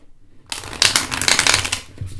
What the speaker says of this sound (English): It shuffles like a dream, which I'm going to show you right now.